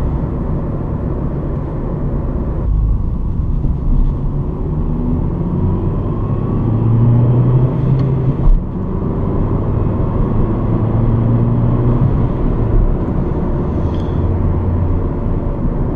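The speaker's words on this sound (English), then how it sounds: "Sounds like the engine is working really hard" A 2006 Peugeot 207 with a 1.4 engine straining while driving, a steady low engine drone and road rumble heard from inside the cabin, with the pitch rising and falling slightly and a brief knock partway through.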